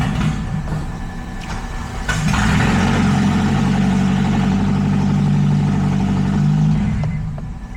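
An Acura RSX Type S engine runs roughly, a loud steady drone that swells after a couple of seconds and holds, then eases near the end, with no talk.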